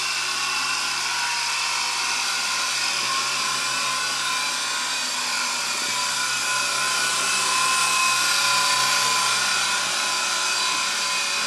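A LiteHawk XL radio-controlled helicopter hums with a steady, high-pitched motor and rotor whine through the whole stretch, holding an even pitch with no pauses and no voices.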